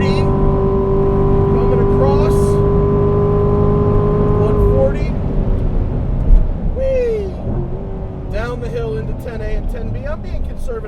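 A 2018 Corvette Grand Sport's engine pulls hard on a track with a loud rising tone, then eases off as the car slows, while a driver talks over the engine noise.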